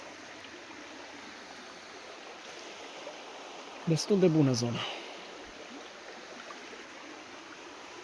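A mountain stream flows with a steady, soft rushing hiss in the background of a cold mountain forest, while someone speaks briefly over it midway.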